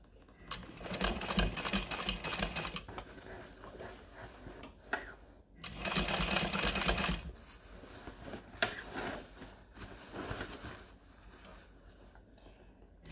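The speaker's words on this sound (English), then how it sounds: "I'm just gonna go and sew." A sewing machine stitches through a bulky tote bag with a steady, fast whirring chatter in two long runs, separated by a short pause and followed by quieter handling noise.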